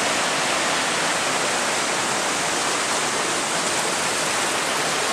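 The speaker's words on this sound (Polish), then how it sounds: "I tutaj z ziemi tryska woda mineralna znowuż." Mineral spring water gushing from the ground in Armenia, a loud, steady broadband rush with no pauses, heard alone.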